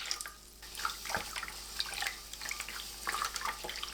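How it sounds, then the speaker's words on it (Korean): Water is poured over coarse salt in a kitchen to make brine, a soft, faint splashing trickle with small drips and gurgles that rises and falls. "굵은 소금 6큰술, 물 1리터 넣고 소금을 녹입니다"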